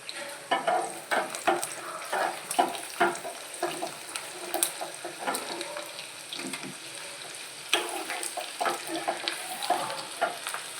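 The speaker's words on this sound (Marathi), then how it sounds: "तडका पॅनमध्ये तेल टाकून घेतला आहे लसूण टाकून घ्यायचा मिरची टाकून घ्यायच्या" Garlic and chilies sizzle in hot oil in a pan while being stirred, with repeated scraping bursts over a steady crackle, close by and moderately loud.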